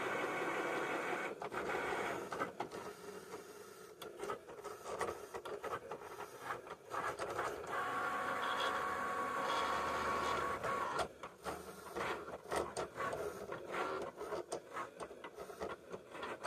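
Cricut cutting machine at work, a continuous whirring and scraping hum with shifting tones and some clicks, moderately close and without talk.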